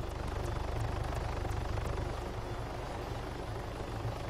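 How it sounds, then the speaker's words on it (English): A helicopter in a NATO patrol-ops co-op video game hovers and sets down on a helipad, its steady rotor thrum and engine whine filling the scene at moderate loudness, with no voices over it. "Okay, Anton, you are free to land on helipad 1. Helipad 1 is clear."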